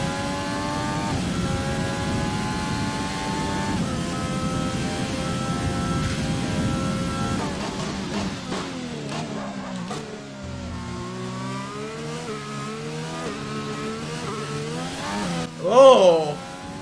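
A Renault Formula 1 car in the F1 2020 racing game, heard from the cockpit in wet weather, drops through gears with a run of rapid downshift blips and falling engine pitch, loud and close, ending in a sharp high-revving burst.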